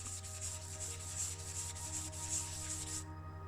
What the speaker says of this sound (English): I'll be rubbing it down with a 1200 grit sandpaper here.